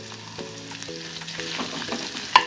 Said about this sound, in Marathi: हे थोडं फ्राय होऊन देऊयात आपण आपल्याला मिरचीचा रंग बदलायचा नाही आहे